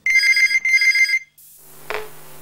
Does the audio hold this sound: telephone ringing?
yes